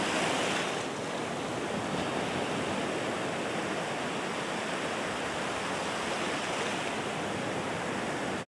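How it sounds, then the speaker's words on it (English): Waves lapping at a beach as background ambience in the Papercut Art Gallery puzzle game, a steady, even wash of surf noise holding at constant loudness throughout with no voices. "The background sound is waves lapping at a beach"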